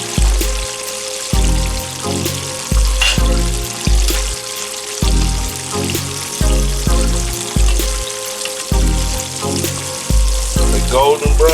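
Fish and butterflied shrimp fry in hot oil with a continuous crackling sizzle. A steady rhythmic thumping beat runs underneath.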